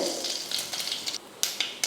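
Faint crackling and popping of mustard seeds spluttering in hot oil, with irregular sharp pops over a steady sizzle.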